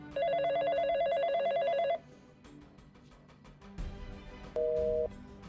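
Phone call ringing out unanswered, a loud electronic ringtone bursting for about two seconds, then a quieter pause with faint rustling and a thump, followed by a shorter tone burst.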